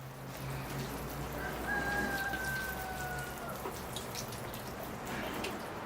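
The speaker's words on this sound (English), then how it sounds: "It's time to give the Schefflera a rinse now." Water rinsing a leafless Schefflera bonsai, a soft continuous patter and spray like light rain on foliage and soil, steady and fairly quiet, with a faint bird chirp in the background.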